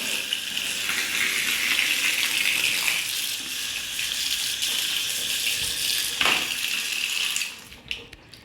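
Tap water runs steadily into a container to soak shoes, a continuous close hiss that stops near the end, with no one talking.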